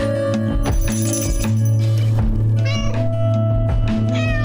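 Several cats meow repeatedly in a cozy quilt-making video game trailer, rising and falling calls layered over steady background music, close and clear.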